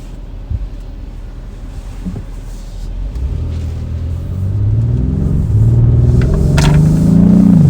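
Acura MDX Type S exhaust while driving in sport mode, a low engine rumble that climbs steadily in pitch and grows louder as the car accelerates, with no talk over it.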